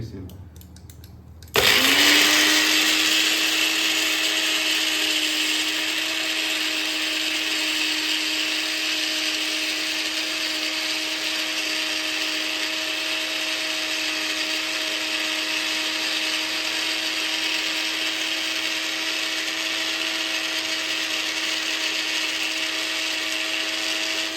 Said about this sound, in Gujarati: હવે આપણે એને પીસી લઈશું.